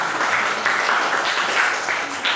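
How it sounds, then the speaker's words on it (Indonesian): Pupils in a classroom give a short burst of applause, a steady, even wash of many hands clapping at once that stays fairly level throughout, with faint voices mixed in. "tepuk tangan"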